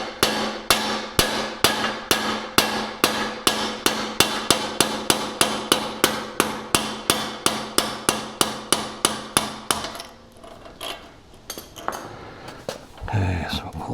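A hammer beats out a part during a gear install on a Camaro, heard as a long run of loud, evenly spaced metallic blows, close up, followed by quieter clinks and handling noise.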